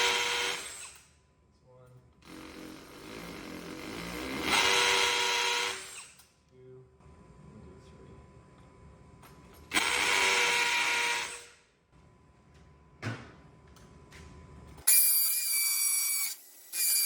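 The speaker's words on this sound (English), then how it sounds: "And we'll go ahead and drill those out." Power drill boring holes in a wall to mount a Tesla Gen 3 Wall Connector EV charger, several loud bursts of drilling separated by pauses, with a person talking in between.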